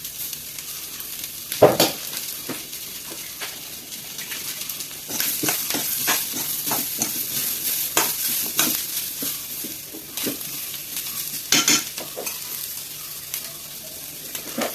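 Onion and coconut frying in a pan in a home kitchen, with a continuous sizzle and repeated scraping stirs, plus an occasional louder clatter of the spoon against the pan.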